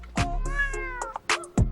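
A house cat gives a drawn-out, clear meow followed by a couple of shorter calls, loud and close, with nobody talking.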